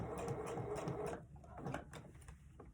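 A sewing machine stitches fabric for a cross-body bag in a short, quiet burst of rapid mechanical clatter, then halts, leaving faint handling noises.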